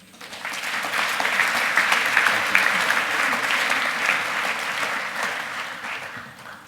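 An audience claps to welcome speaker Andrew Maraniss at MBA, a dense, sustained wash of applause that swells quickly, holds steady, then tapers off at the end.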